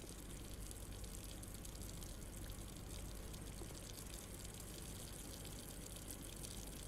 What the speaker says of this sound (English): Somebody left the water on.